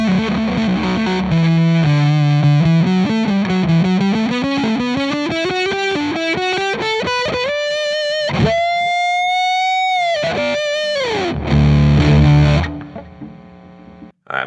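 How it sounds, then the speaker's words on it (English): Electric guitar through a Big Muff fuzz pedal cranked high, with thick sustained distortion on a climbing melodic line, then long held bends and a heavy low chord before cutting off. "Classic Muff sound. I think if you crank it, you get some really fuzz"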